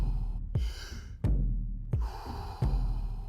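Deep rhythmic breaths from a Wim Hof breathing exercise, with four sharp inhalations each followed by a long, audible exhale. The breathing is close and loud, with no talking.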